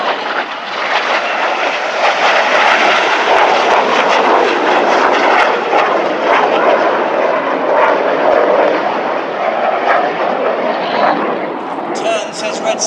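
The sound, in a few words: RAF Red Arrows jet aircraft flying past at full power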